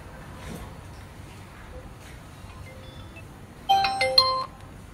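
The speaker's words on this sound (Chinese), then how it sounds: "我给他打个电话啊" A phone's ringing tone sounds late in the clip, a short bright electronic melody rising above quiet background noise.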